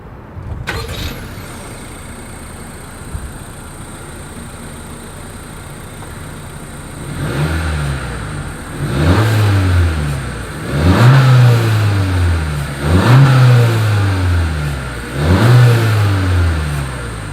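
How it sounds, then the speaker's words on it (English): A 2020 Honda CR-V Touring with dual chrome-tipped exhaust idles quietly at first, then gives a series of four or five short, moderate revs that rise and fall in a regular rhythm. "As always, here is that exhaust clip."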